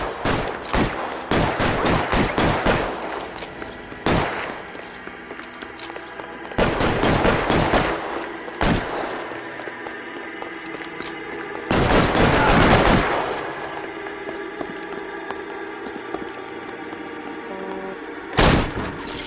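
Gunfire in the video game L.A. Noire: bursts of loud, sharp shots and rapid volleys come in clusters, separated by short lulls, with a final burst near the end.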